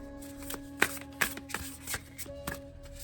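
A deck of playing cards is shuffled in a few quick riffles and taps, crisp and close, with soft background tones.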